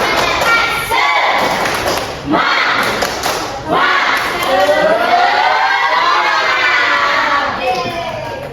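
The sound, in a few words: class doing the 'tepuk semangat' rhythmic clapping chant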